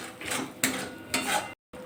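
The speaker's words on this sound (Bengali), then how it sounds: "এবার ভালো করে মশলা দিয়ে আবার কষিয়ে নেব।" Spices fry in a pan for a vegetarian pointed gourd curry with cashews while a spoon stirs them, making a few close scraping strokes with a faint sizzle and a brief pause near the end.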